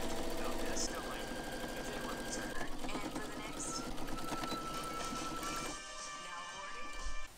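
A sewing machine stitches straight lines across a fabric hat brim made from upcycled fabric, a fast, steady rattling whir that runs continuously for several seconds, then drops away near the end.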